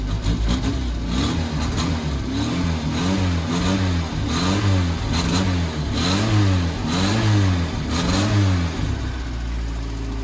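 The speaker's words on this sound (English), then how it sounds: "the sound Italian cars make. You rev and they just sound fantastic" A classic Italian car engine revs repeatedly in rhythmic bursts, rising and falling in pitch, loud and close with a throaty, rasping exhaust note.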